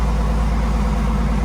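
A Dodge Durango R/T with a newly fitted Borla cat-back exhaust idles right after its first start, giving a steady, loud, deep rumble that holds even and close throughout with no talk.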